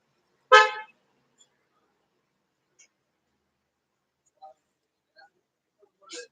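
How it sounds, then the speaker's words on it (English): A vehicle horn honks once, short and fairly loud, from the street outside, followed by a few faint, scattered distant traffic sounds over near silence. "There's a lot of noise in the background. Some vehicles on the street."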